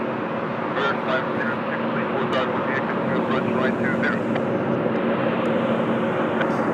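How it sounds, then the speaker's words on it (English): An Airbus A320neo airliner arriving from Athens at Lisbon Airport gives a steady, broad jet roar throughout, fairly loud and continuous, with faint voices and honking-like calls mixed in. "Airbus A320neo, A320neo de Athens a chegar"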